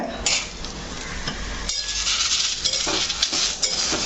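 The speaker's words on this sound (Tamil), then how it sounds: "இப்போ வெங்காயம் அந்த அளவுக்கு வதங்கின உடனே தக்காளிங்க" A spoon stirs tomatoes into sautéed onions in a pan for mutton curry, giving steady scraping and clinking against the pot over a low sizzle, close and fairly loud, with no talk.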